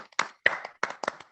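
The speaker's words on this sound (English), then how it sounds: "Round of applause." Scattered hand claps from a small audience at a talk on Vernon County round barns, a few short bursts of clapping rather than sustained applause.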